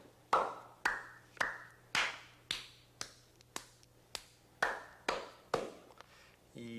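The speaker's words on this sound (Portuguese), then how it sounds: "Fora a variedade de palmas" A single person's hands clap about a dozen crisp, ringing times at an uneven pace, each strike sharp and close with a short room decay, the patterns shifting between quicker and slower groupings.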